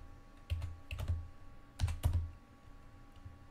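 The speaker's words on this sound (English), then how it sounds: "Why am I typing in his name?" Keys clatter on a computer keyboard in short, uneven bursts of clicks, close by and moderately quiet, with a faint steady hum in the background and no talk.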